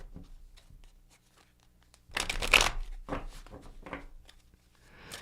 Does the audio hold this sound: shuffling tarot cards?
yes